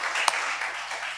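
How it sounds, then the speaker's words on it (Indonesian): Brief audience applause greeting a guest on an Indonesian TV comedy talk show, a steady wash of clapping with one sharper clap standing out, lasting just over a second. "Tepuk tangan dong."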